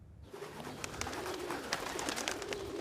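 Pigeons coo repeatedly in a soft, throaty rhythm through the whole stretch, with a steady bed of outdoor ambience behind them and no talking.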